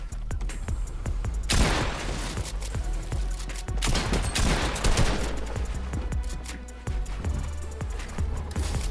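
Rapid bursts of gunfire crackle in a Fortnite match, with many sharp close shots in quick succession, some heavier loud volleys and a steady battle din underneath.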